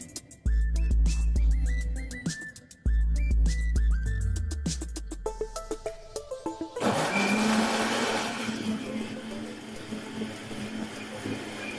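Electric mixer grinding ice apple (nungu) with milk and sabja seeds, starting in short loud pulses that stutter and slow, then settling into a steady, high whirring blend.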